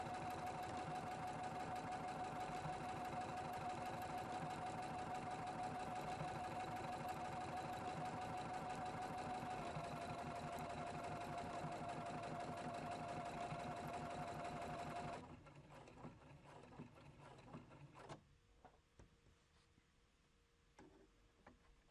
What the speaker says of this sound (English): This automatic darning stitch will stitch 12 times back and forth over the tear to repair it.